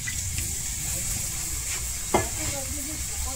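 Water, including some left from boiling, goes into a hot frying pan and sets off a steady broad sizzle, with one brief clink partway through.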